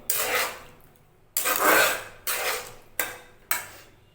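Spoon scraping and stirring mixed vegetable kootu in a pan, coriander leaves in the mix, in five distinct rasping strokes of varying length with brief pauses between them, close and fairly loud.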